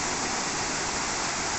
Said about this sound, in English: on the way you get this waterfall